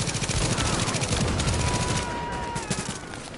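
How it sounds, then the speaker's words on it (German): Sniper rifle fire in the video game The Division, heard as rapid, dense cracks of gunfire layered in a loud, continuous firefight. "Ich will ihn absnipern."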